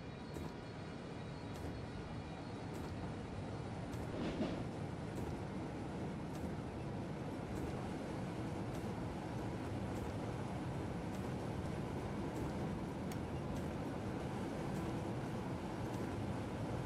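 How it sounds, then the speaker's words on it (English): Metronom passenger train on the Hamburg–Hanover line in Train Simulator 2015 under emergency braking, a steady rumbling roar with faint rhythmic clicks, continuous and fairly quiet with no talking. "Well, emergency brakes will do that, Jesse."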